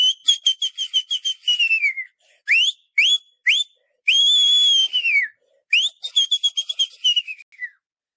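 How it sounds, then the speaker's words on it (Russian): A person whistles during prayer, likened to a shofar: a run of short rising and falling whistled notes, then a long sustained whistle, then another quick run of chirping notes, loud and close with brief gaps. "И вот знаете, этот свист, это как шафар."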